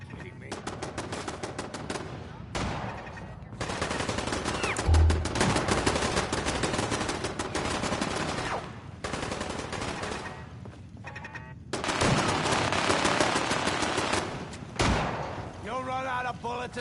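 Fallout 4 combat with loud, close automatic gunfire in long bursts separated by short gaps, while a voice talks over parts of the shooting.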